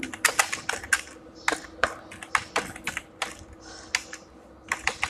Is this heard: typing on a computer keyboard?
yes